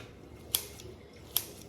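Two crisp, quick snips of kitchen scissors cutting through drained shirataki-style noodles, spaced about a second apart, quiet and close with no talking.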